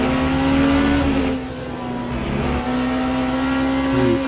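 Ferrari race car engines in a racing video game on a Qatar circuit. A loud, droning, high-pitched engine tone rises and dips with gear changes and shifting revs over several seconds, with other cars blending into the roar and no voices.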